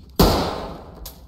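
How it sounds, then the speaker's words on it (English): A single loud gunshot bursts out in the tactical shooter game Ready or Not, with a sharp attack and a long decaying tail, followed by a second, fainter crack about a second later. "You think she'll react to the gunshots?"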